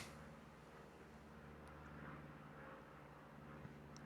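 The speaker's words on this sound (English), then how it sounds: "I apologize if you can hear the airplane going overhead." An airplane passes overhead as a faint, steady, distant engine drone, low and continuous under quiet background hum.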